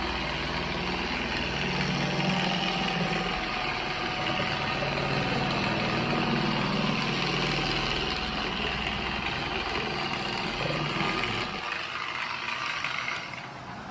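A paint correction polishing machine runs steadily on car paint with only its own weight pressing down, a continuous mechanical whir and hum that drops off near the end, no talk over it.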